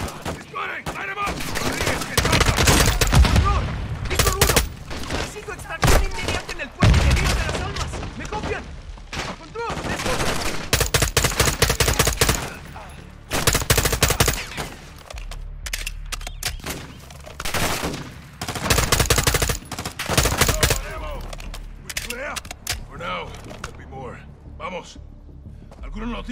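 Rapid bursts of gunfire in a firefight from the game Modern Warfare 2, loud overlapping shots and machine-gun fusillades coming in waves, with voices shouting orders between them.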